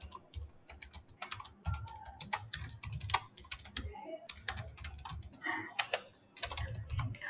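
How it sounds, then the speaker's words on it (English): Rapid typing on a computer keyboard while entering details for a calendar event, a steady patter of close, crisp key clicks with brief pauses and no talk. "So I will type the opportunity name here."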